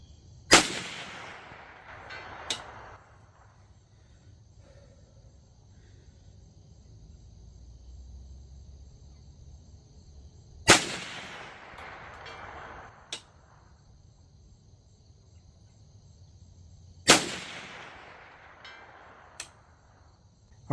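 Three sharp rifle reports from a Bear Creek Arsenal 20-inch stainless .22 WMR upper fired at a steel target, spaced several seconds apart, each followed by a fainter metallic ping from the steel hit.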